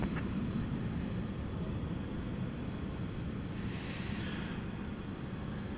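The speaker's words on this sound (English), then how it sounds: "there goes the 767. It's on its way to Louisville" A Boeing 767 jet departing DFW Airport at night, a broad, steady low roar from a distance, with a rising whine drifting across midway.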